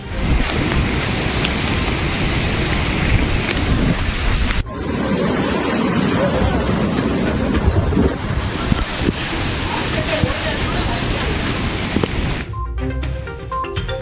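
Loud, continuous roar of cyclone-driven gusting wind and crashing rough sea at Pamban, Tamil Nadu, dense and unbroken, with a brief dip midway before the rush resumes.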